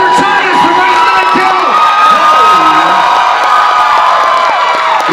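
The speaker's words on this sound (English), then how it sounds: "let's give it an even louder welcome to Spencer Thomas from Ice" A large convention crowd cheers and whoops loudly for a special guest at a Midsummer Scream horror panel, a dense continuous roar with children shouting, close and unbroken throughout.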